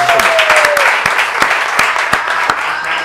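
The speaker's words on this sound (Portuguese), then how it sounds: "Vamos aplaudir essa comida aí" Guests at a churrasco talk show applaud the food, a lively burst of clapping with several sharp individual claps standing out, mixed with chatter and voices talking over it.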